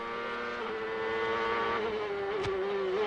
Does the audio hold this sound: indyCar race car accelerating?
yes